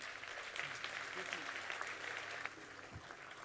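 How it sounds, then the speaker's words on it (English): Soft, continuous applause from a crowd at a national scientists' round table conference inauguration, a distant, even wash of many hands with a voice faintly underneath. "Let's give him a big round of applause, my friends."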